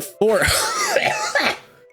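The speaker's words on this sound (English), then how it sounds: "my coughs have just been gross lately" A single harsh, wet cough bursts out close and loud, followed by a short throaty rasp as it trails off.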